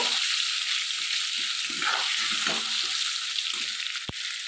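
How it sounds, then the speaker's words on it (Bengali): Potatoes frying in hot oil in a pan while being stirred, a steady close sizzle broken by scraping stirs, with one sharp clack near the end. "আলুগুলো আমি ভালো করে একটু ভেজে নেব"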